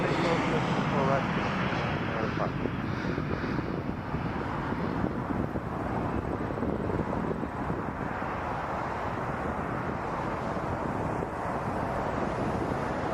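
An airplane at Toronto Pearson Airport gives off a steady, loud, broad roar of engine noise that holds for the whole stretch, with wind buffeting the microphone throughout.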